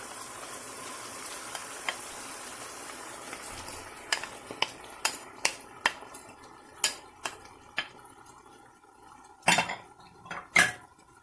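Chopped onion goes into a pot for mutton karahi, with a series of sharp metallic clinks and scrapes of a utensil against the pot that grow more frequent and louder toward the end.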